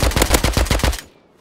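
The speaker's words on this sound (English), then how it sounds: "Dia tengah tembak aku." Gunfire in the multiplayer game Atlas: a loud, close burst of about seven rapid automatic shots in steady rhythm, then an abrupt stop into a short fading echo.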